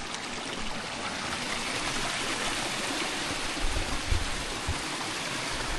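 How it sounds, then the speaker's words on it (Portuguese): Small stream flowing from a spring of the Bernardino creek in the Serra da Calçada near Brumadinho: an even, continuous babble and trickle of water, close and steady. "Aqui uma das nascentes do córrego Bernardino."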